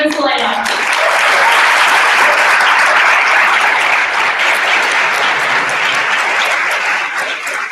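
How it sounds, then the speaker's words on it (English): Loud, sustained applause from a lecture audience welcoming Steven Salaita, dense clapping that swells right away and holds steady for several seconds before easing slightly. "Everyone please give him a round of applause."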